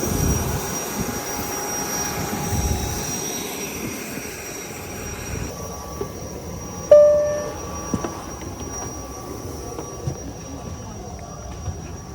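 At an airport, an airplane's engines give a faint, steady roar beside a waiting passenger, with voices and occasional small clicks around it.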